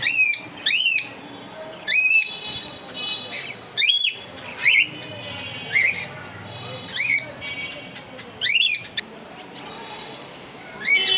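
Pet birds call loudly and repeatedly in sharp, rising shrieks, clustered in bursts across the clip with short pauses between them.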